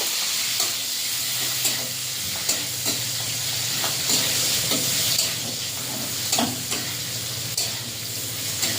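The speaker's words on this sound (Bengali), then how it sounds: "পেঁয়াজটা ভাজা ভাজা করে নেব।" Chopped onions fry in hot oil with panch phoron in a kadai, a steady sizzle broken by regular spatula strokes that scrape and tap against the pan about once a second, close and without speech.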